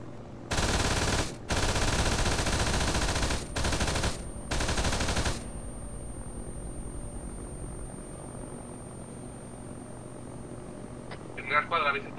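Gunfire in a military video game airfield attack: several long bursts of rapid automatic fire over about five seconds, then a low, steady hum and a brief crackle near the end.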